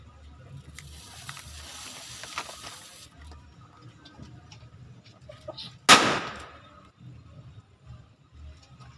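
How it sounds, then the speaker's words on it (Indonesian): Close wind noise and faint voices give way to a single sharp, loud blast from a Lombok mercon firecracker that rings out briefly and then fades into background murmur. "Kita lanjutkan petasan yang kedua guys."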